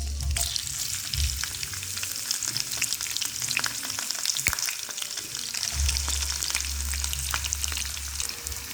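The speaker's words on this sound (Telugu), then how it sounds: "ఈ ఆయిల్లోకి పోపు దినుసులు అయితే వేసుకుందాం. అలానే కట్ చేసిన ఉల్లిపాయలు, కరివేపాకు, పచ్చిమిర్చి," Spices, sliced onions, curry leaves, green chillies and dried red chillies crackle and sizzle loudly in hot oil, a dense continuous fry with occasional stirring knocks and a low hum.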